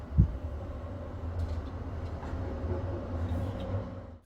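A city tram in Sheffield, UK, passes with a steady low rumble and rolling rail noise. A brief thump comes near the start and the sound fades at the end, with no voices.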